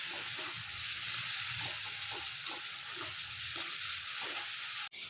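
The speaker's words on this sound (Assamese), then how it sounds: "বিলাহীয়ে তেল এৰালৈকে মই বিলাহীখিনি ভালদৰে ভাজি ল'ম" Boiled tomatoes fry in oil in a pan, a steady bright sizzle running throughout with soft rhythmic stirring scrapes beneath it, close and fairly quiet.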